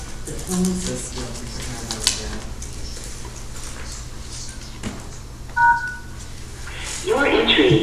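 Telephone keypad tones punch in a meeting ID on a WebEx conference phone line, a few short beeps around the middle, with an automated voice prompt and background speech around them.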